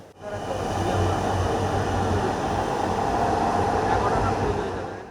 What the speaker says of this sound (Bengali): মতিঝিলে ছুটবে স্বপ্নের মেট্রো রেল